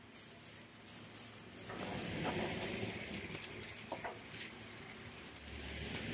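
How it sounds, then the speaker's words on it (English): A few short, quick hisses of cooking oil spray at the start, then a softer steady hiss with faint background noise. "I'm just going to give a quick spray to the bottom"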